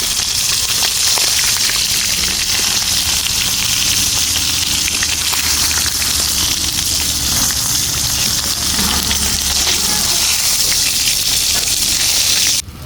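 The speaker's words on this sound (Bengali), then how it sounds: "মাছ ভাজা তেলের মধ্যে আমি এখন দিয়ে দিচ্ছি পেঁয়াজ আর মরিচ" Onion and chili sizzle loudly in hot oil left from frying pangas fish in a pan on a clay stove, a continuous dense hiss and crackle holding steady throughout with no talking.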